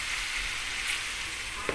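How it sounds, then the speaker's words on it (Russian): Steady oil sizzle of a large panful of potatoes frying, a constant close crackling hiss throughout with one small clink near the end. "жарю вот такую сковородку картофеля"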